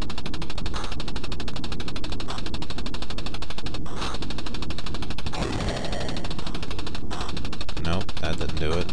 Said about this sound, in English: someone's shooting me, and I can't see them